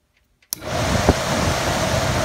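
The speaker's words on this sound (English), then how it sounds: "I ran just an alligator connector through a fuse, 15 amps to a switch. And now this tests the motor." A Range Rover blower motor, wired through a fused test switch, kicks on abruptly after a click and settles into a steady, loud airy whoosh with a brief bump partway through, close up and alone.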